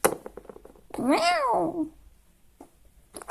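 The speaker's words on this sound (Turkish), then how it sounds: "kızım bak bir kedi" A cat gives one clear, drawn-out meow close by near a shopping mall entrance, with brief bits of talk and bumping sounds before and after.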